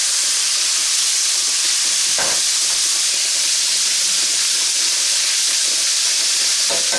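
Pork chops frying in a pan, a loud steady sizzle and hiss filling the whole stretch, close and continuous with faint clinks now and then, no talking.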